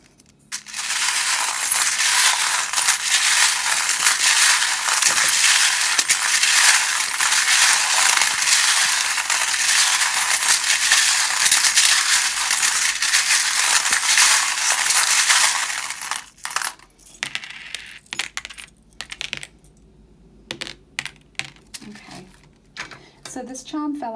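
Small metal charms for a dice and charms reading are shuffled vigorously in the hands, a dense, loud jingling clatter lasting about sixteen seconds, then tapering into sparse clinks and rattles.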